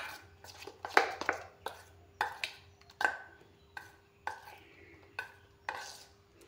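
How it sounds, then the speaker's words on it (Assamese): Potato peel pakora batter is worked in a bowl, giving a quiet, close series of regular wet slaps and taps about every half second. "ভালকৈ মিক্স কৰি লৈ ল'ম। এয়া চাওক, ধুনীয়াকৈ মিক্স কৰি লৈ লৈছোঁ।"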